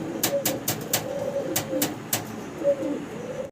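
Blue bar pouter pigeons in a cage give soft repeated coos near the mic, mixed with sharp wing flutters and cage rattles.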